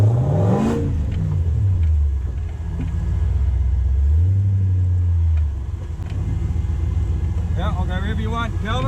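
A 4x4 with a 3UZ V8 engine is revved hard up to its rev limiter, giving a loud, close roar that climbs and falls in long sweeps, with a heavy low rumble throughout and brief talk near the end.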